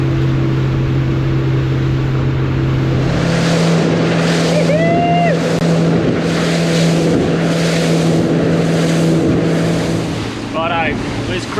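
Motorboat engine droning steadily while cruising on coastal water off Port Smith in the Kimberley, with wind buffeting and water noise throughout, a few brief voices and bird-like calls over the constant hum.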